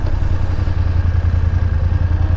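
A BMW F900GSA motorcycle engine runs steadily nearby, a loud, even low-pitched throb with a slight rhythmic pulse and no changes in revs.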